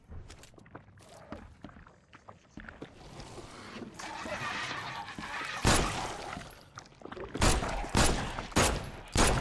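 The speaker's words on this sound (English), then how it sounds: "The gunshots are so loud." Loud bursts of gunfire ring out in a video game set in a flooded, sinking city, several sharp volleys scattered over muffled water and movement sounds, with faint talk in between.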